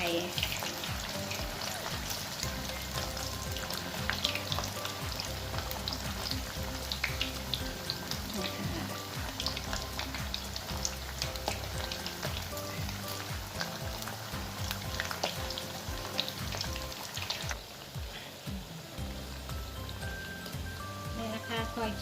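Banana pieces deep-frying in hot oil give a dense, steady sizzle and crackle throughout, with occasional scraping as a stick stirs them, close and fairly loud.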